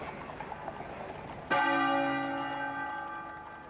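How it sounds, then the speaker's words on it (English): The Sebastopol bell at Windsor Castle tolls once during a royal funeral, a single clear bronze strike ringing with a long, slowly decaying hum after quiet outdoor ambience. "and the Sebastopol bell tolled,"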